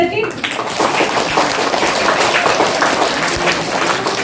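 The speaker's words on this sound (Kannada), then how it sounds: "ಶಿವಕುಮಾರ ಮಹಾಸ್ವಾಮೀಜಿಗಳು ಯಾರು ಹೇಳಿದ್ದು ಜೋರೆ ಚಪ್ಪಾಳೆ" Loud, sustained applause from schoolchildren at a school event in Mysuru, a dense wash of clapping that fills the whole clip with a few children's voices mixed in.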